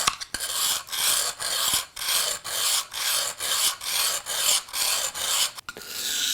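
A carving V-tool is stroked back and forth across a sharpening plate, giving a steady rasping scrape in an even rhythm of about a dozen close, loud strokes with brief gaps between them.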